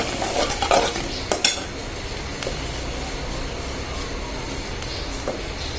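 Onion, ginger and garlic frying for a goat liver curry: steady close sizzling with a few clinks of a stirring spoon against the pan early on.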